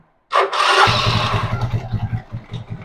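Hero Splendor motorcycle engine kick-started, a sharp kick and cranking burst followed by the engine catching into a close, throbbing idle.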